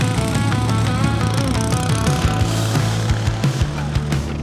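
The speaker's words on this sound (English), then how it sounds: "to lawnmower racing. Yes, you heard me correctly." Racing lawnmower engines roar loudly and continuously at a groundscare machinery show, a rough buzzing drone with shifting revs and occasional knocks, close up, with no talking.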